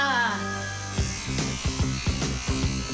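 Electric toothbrush buzzing in a children's cartoon, starting after a second of music and sounding as a series of short, repeated buzzy bursts with a steady rhythm, fairly loud against a background score.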